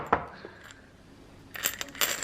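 Loose coins of small change are handled and dropped. A bright clink comes first, then a quiet pause, then a busier metallic jingle of coins near the end.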